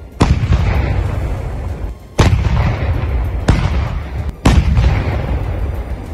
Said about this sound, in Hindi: रूस की तोपें ऐसी गरजती दिखी मानो यूक्रेन का खून पीने के लिए तड़प रही हों